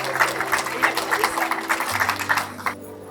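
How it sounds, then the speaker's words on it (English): Walkers at a Breast Cancer Canada Mother's Day charity walk clap for themselves outdoors, a scattered ripple of applause that fades out near the end, with a low hum underneath. "Give yourselves a round of applause"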